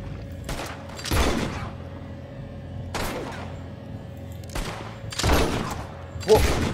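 Double-action revolver fired in Red Dead Redemption Online: about five or six sharp, separate shots at uneven intervals over a quiet background, each crack standing out on its own.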